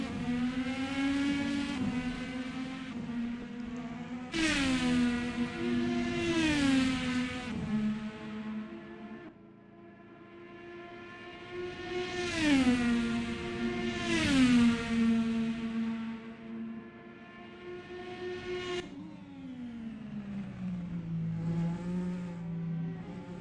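An IndyCar race car engine laps the Indy Road Course, rising through high-pitched revving on each straight and dropping as it downshifts for corners, with several loud acceleration sweeps and no talking.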